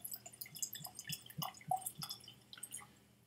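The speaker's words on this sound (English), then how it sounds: "Let's get some of this poured before I spill it all over the place." Five-year-old blended Irish whiskey being poured from a bottle into a glass, giving soft, close liquid drips and splashes in an uneven rhythm, quiet and with no talking.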